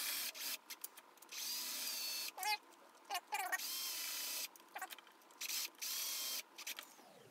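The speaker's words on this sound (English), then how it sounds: "Now we'll tighten these up with Mr. Black & Decker." A Black & Decker power drill drives screws into a bass guitar bridge in short, sharp whirring bursts with brief pauses between, close and loud against a quiet room.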